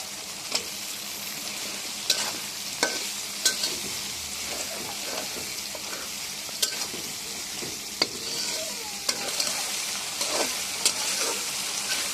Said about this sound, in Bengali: মশলাটা ভালো করে কষিয়ে নেব বারবার নাড়বো না হলে নিচে ধরে যাবে